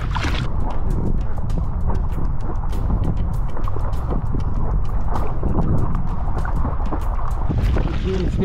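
A kayak is paddled across open water as wind buffets the microphone, with steady rushing noise and repeated soft paddle splashes and strokes, fairly close and continuous.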